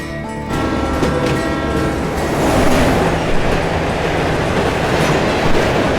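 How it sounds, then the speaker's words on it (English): A train roars past close by, a loud continuous rumble and rattle of railcars that swells and holds steady across the whole stretch, with a faint horn-like tone near the start. "Mr. Harris, there's a train!"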